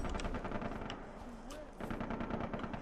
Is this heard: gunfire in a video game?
yes